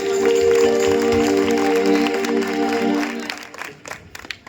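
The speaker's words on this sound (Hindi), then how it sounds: "उस विजय देने वाले प्रभु यीशु मसीह के लिए आपका उत्तम तालियों का अर्पण होने पाए।" Congregation at a Christmas program in Ojhar, Nashik claps loudly over a sustained musical tone, the applause fading into scattered claps near the end.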